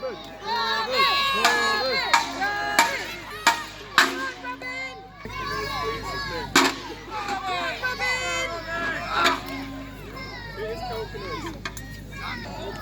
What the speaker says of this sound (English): So come on, cheer them on.